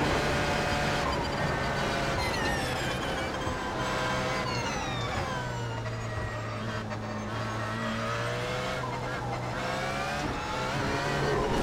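A Porsche LMP1 race car screams around the Nordschleife in the iRacing sim, its engine droning loud and continuous as the pitch climbs and drops through gear changes, with rising revs over the whole stretch.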